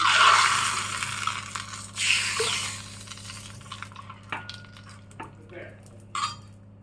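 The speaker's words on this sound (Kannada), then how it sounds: "ಇದಕ್ಕೆ ಇವಾಗ ತುಪ್ಪ, ಸಾಸಿವೆ, ಒಂದು ಒಣಮೆಣಸು ಹಾಕಿಬಿಟ್ಟು ಒಗ್ಗರಣೆ ಹಾಕ್ತಾ ಇದ್ದೀನಿ" Mustard seeds and a dry chili tempering in hot ghee in a pan, with a loud opening sizzle and crackle that fades into quieter spoon clinks and scattered pan taps.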